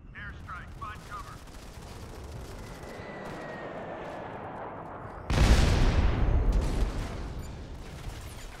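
In the PC shooter Modern Combat 5, a sudden heavy airstrike blast erupts midway and roars on as rumbling explosions over ongoing gunfire and game noise.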